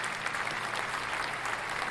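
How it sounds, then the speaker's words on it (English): An audience at a student performance breaks into steady applause as the performers bow, a dense wash of clapping heard from within the crowd, with no clear voices. "Crowd erupts and cheers as all the students bow to the audience, Zoe included."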